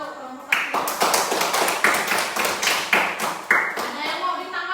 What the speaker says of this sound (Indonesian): beri tepuk tangan dulu kelompok satu